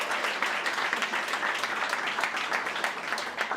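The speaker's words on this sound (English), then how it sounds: "a massive round of applause for Chris" An audience claps together at an event, steady, fairly loud crowd applause sustained throughout with no voices over it.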